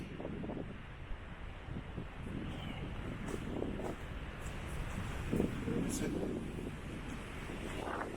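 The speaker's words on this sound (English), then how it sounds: "Oh goodness, it's windy." Gusty wind buffets the microphone in a continuous low rumble, with a voice briefly audible beneath the blustery noise.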